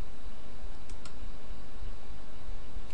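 A computer mouse gives two quick, close clicks in succession while working in Maya, set against a steady background hum.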